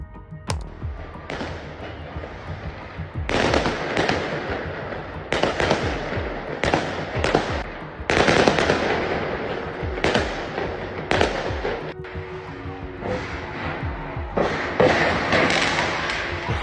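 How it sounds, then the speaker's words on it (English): Fireworks at a show in Klang, Malaysia, in 2017 misfire and launch into an apartment building, producing loud, repeated booming blasts and crackling bursts that continue throughout, close and forceful, with no talking. "some fireworks accidentally launched into an apartment"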